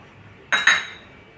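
A metal spoon clinks twice against a bowl while stirring water, lemon juice and turmeric, two bright, close ringing taps in quick succession over a quiet background.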